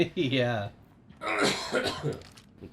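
A man coughs and clears his throat in a short harsh burst, then follows with a longer rough hacking cough, close to the microphone, with a brief spoken word.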